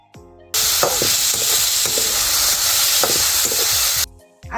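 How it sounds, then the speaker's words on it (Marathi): Garlic fries in hot oil in a pan, a loud, dense sizzle running for about four seconds, with a utensil repeatedly scraping and clinking as it is stirred. "असं लसूण टाकी परतू परतू भाजून घेते"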